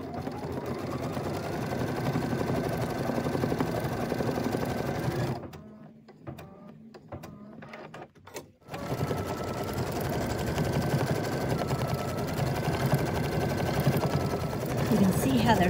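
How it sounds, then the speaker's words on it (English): A Brother Luminaire embroidery machine stitches a Kali Wedding Star quilt block with a steady, rapid mechanical whir that stops briefly partway through and then resumes, with a voice speaking faintly alongside. "I'm going to push my start key and we will start embroidering"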